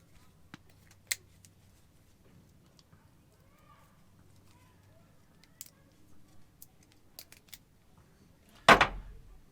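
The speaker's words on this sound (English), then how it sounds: "Remember when I said we have this little plastic capture nut on here? Now it's time to cut it off." A little plastic capture nut on a Toyota Tacoma bed-stiffener fitting is cut off in one sharp snip near the end, following a few faint clicks and handling noises in a quiet space.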